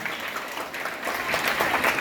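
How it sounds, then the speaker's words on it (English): An audience gives a round of applause for newly elected student representatives at a school results announcement, steady dense clapping that swells slightly toward the end, with no voices over it. "I would like to request everyone to give them a big round of applause."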